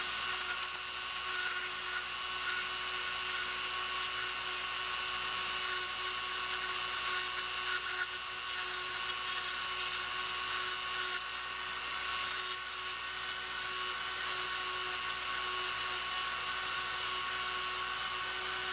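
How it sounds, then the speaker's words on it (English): A Dremel rotary tool carves detail into a handmade baby musky swimbait, producing a steady high-pitched whine that runs unbroken from start to finish, close and continuous, with no speech. "I'm gonna use a Dremel to get it nice and detailed and good."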